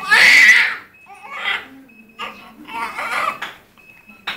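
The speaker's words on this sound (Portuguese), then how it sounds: "Escutei mais a zoada do bebê, ó." A baby crying in a hospital: a loud, close wail opens, then shorter, softer cries and whimpers come in uneven bursts with brief pauses between them.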